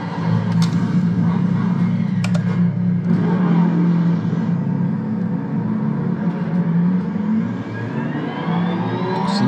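A race car engine in Assetto Corsa Competizione hums and revs steadily under a droning tone, with a couple of brief clicks early on, continuous and fairly loud throughout.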